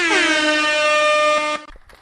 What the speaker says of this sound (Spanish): ahí te va el tutu, mi amigo